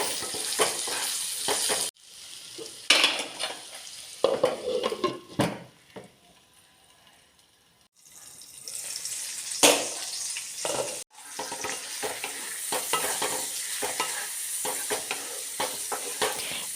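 Ivy gourd and potato pieces fry in oil in a pan on the stove, giving a steady close sizzle with scraping stirs and occasional lid clatters, easing to quiet for a few seconds before the sizzle returns.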